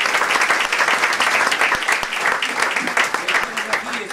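Theatre audience applauding at the curtain call of a stage comedy, a full, continuous clapping with a few sharp individual claps standing out and a voice talking over it.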